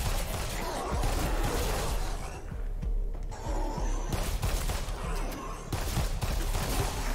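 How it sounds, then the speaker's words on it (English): Machine gun in the zombie shooter VAR: Exterminate fires bouncing bullets in long, dense rapid bursts with loud impacts and clatter, broken by a brief lull midway. "we're going for bouncing bullets with a machine gun"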